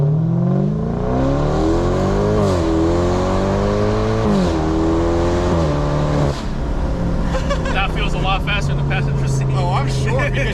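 A BMW F10 550i with windows down launches from a standstill, its engine revving hard through rising pitch sweeps and gear changes, loud and close, with a voice speaking over parts of it.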